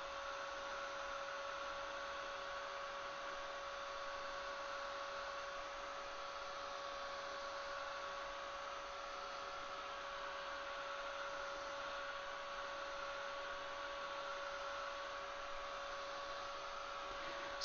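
A hair dryer blowing on a watercolor painting of sunflowers, a constant loud whooshing hum with a steady tonal whine, running unbroken throughout with no talking.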